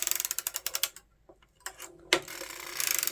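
A circular sock knitting machine is cranked, giving a rapid, even run of close mechanical ratcheting clicks that pauses briefly, then resumes with more clattering and a sharp knock.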